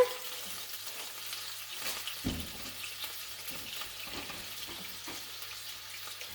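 Vegetable broth heats in a pot toward a simmer, giving a steady low bubbling hiss with faint stirring clinks and a soft knock partway through, heard alone with no talk.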